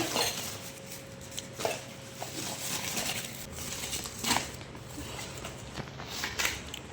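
Newly bought kitchen containers for storing ghee being handled, with light plastic and metal clattering, tapping and rattling close by in a steady stream of small knocks.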